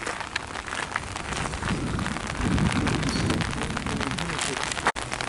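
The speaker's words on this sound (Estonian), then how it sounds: "vihma sajab muidugi" Steady rain falls outdoors by the Zugspitze train station in Bavaria, a dense continuous hiss throughout with a brief dip near the end.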